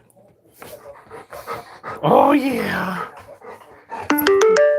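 A happy dog pants close by with a drawn-out vocal whine, while people talk over it and a short chiming tone follows.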